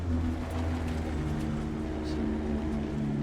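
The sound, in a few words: race car downshifting in video game Dirt 2 VR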